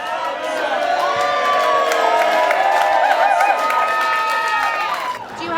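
Comedy club audience cheering and whooping at a stand-up show with drunk hecklers, a sustained loud wave of crowd shouts and cheers that fades near the end.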